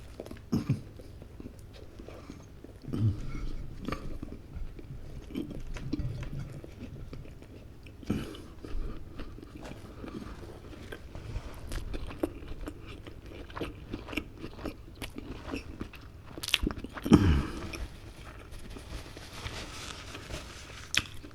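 A mozzarella cheeseburger is bitten and chewed close to the microphone, with soft wet squishes, occasional crunches and steady, irregular mastication throughout, and no speech.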